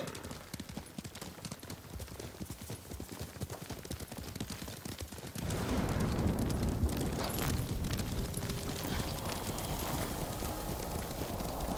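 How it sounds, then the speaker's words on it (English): A horse gallops in Ghost of Tsushima, its hooves pounding louder and denser partway through as the ride picks up, under a wash of ambient game sound. "Okay, get on your horse."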